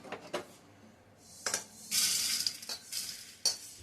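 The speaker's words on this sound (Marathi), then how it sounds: "आता मी हे एका ताटात काढून घेणार आहे." Dry-roasted poha scraped out of a wok onto a plate, with close metallic scrapes, a brief rustling pour of flakes and light clinks, no voices.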